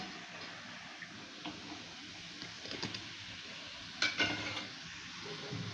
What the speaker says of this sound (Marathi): हे बघा दोन्ही साईडने असे छान तळून झालेले आहेत